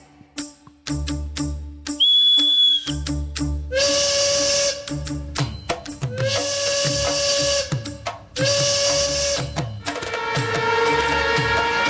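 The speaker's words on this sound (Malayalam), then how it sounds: "ട്രെയിനിന്റെ മൂവ് ചെയ്യാനുള്ള സിഗ്നൽ നമുക്ക് കൊടുക്കാം" A loud, sustained train whistle blows several times in long blasts as a departure signal, separated by short clanking and mechanical noises, close by.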